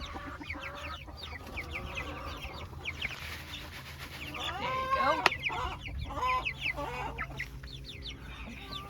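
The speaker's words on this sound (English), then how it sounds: "Some things don't change with speckled Sussex. They're still noisy as all get out." Speckled Sussex chickens cluck and squawk close by in a busy, noisy chorus on a farm, rising to a louder burst midway, while a person speaks briefly.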